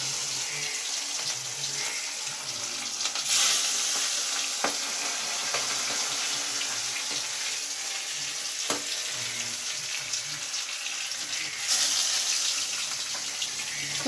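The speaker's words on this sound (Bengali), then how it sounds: "আজকে তো মাছটা ভেজে নিই এই যে কড়াইয়ের মধ্যে মাছ দিয়ে দিলাম" Spice-coated fish frying in oil in a wok, a steady, loud sizzle running throughout, broken by a few sharp clinks and two brief surges of spattering.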